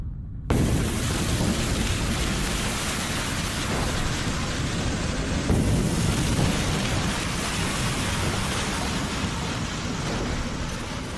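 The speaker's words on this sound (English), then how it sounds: "we have reconstructed the Krakatoa 535 AD Big Bang." A reconstructed Krakatoa volcanic explosion of 535 AD bursts in abruptly and becomes a dense, continuous roar of rumbling noise, sustained at high loudness with slight surges throughout.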